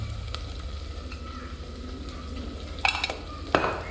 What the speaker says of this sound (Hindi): ये बिल्कुल फ्राई हो चुका है, थोड़ा सा गरम मसाला डाल देते हैं अच्छी खुशबू के लिए